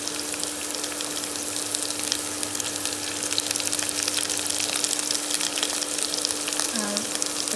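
Carrot and capsicum frying in a pan, a steady close sizzle with faint stirring and a constant low hum throughout, with no voices.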